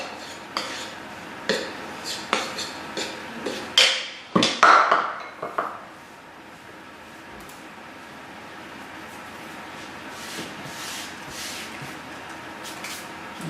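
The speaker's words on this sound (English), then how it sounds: "give it a good stir till you take all the lumps out" A spoon clinks and scrapes against a bowl while cheese and Vegemite mini muffin batter with baking powder is stirred, a run of sharp taps for several seconds, then quieter mixing under faint room hum.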